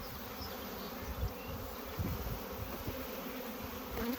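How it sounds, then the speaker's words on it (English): Swarm of honey bees buzzing thickly through the air just after being shaken out of a hive box, a steady droning hum with close wingbeats rising and falling, no talking. "You see we got lots of bees in the air."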